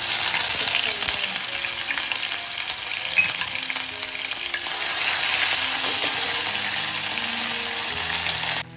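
Ginger-garlic-chili paste sizzles loudly in a hot pan with curry leaves and spices, a dense, continuous frying hiss close by, with faint stirring scrapes and no talk.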